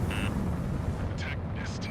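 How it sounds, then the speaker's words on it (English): A missile launch in the combat flight game Ace Combat 7 roars as a dense, sustained rush of noise, with short electronic warning tones chirping above it. "Missile launched."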